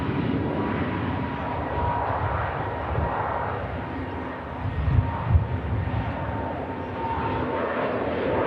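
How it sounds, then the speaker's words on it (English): An Airbus A321neo departs from an airport's south side, its engines a steady, moderately distant broadband rumble with a couple of brief low thumps near the middle, no voices heard. "Is cleared for departure on the south side. A321neo heading to Istanbul."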